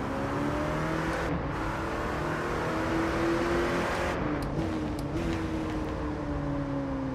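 Aston Martin GT3 Evo race car engine in the Rennsport racing game, a steady loud roar with rising and falling pitch as gears change, continuous and close throughout with no voices.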